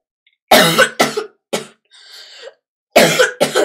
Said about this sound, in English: I went coughing like crazy.